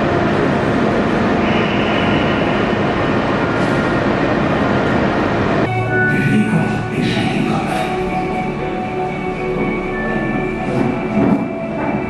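Inside a moving train, a loud continuous rumble and roar that shifts tone partway through, with faint squeals and clatter.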